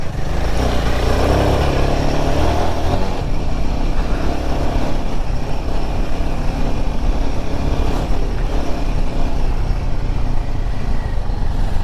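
Vehicle engine on a night ride around Chandrapur, a loud continuous drone with road and wind roar while the engine brakes, steady and close for the whole stretch without talk.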